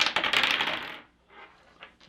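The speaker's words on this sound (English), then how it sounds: "So we will all roll dice together." Dice rattle and tumble onto a tabletop during a Dice Forge board game, a loud clattering burst for about a second that fades to a few small taps.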